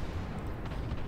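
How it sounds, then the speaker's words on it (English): Heavy naval gunfire in the World of Warships: Legends video game, a dense, continuous low-frequency boom and rumble filling the whole moment, with no talk over it. "This next shot of ours hits him in just the right place to finish him off."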